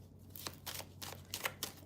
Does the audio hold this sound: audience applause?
no